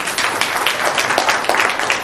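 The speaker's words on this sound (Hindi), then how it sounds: "सब ताली बजाए बच्चे के लिए" An audience applauding for a child, a dense wash of many hands clapping at once, steady and fairly loud for a couple of seconds.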